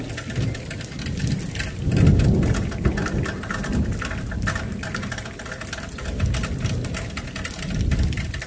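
Severe thunderstorm with steady rain and rolling thunder, the low rumbles swelling near two seconds and again toward the end, loud and continuous with no voices.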